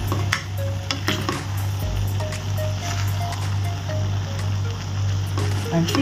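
Fried tofu goes into pancit canton in a pan, with steady sizzling frying, stirring and a few clinks of utensil on pan under a low constant hum, and no talk.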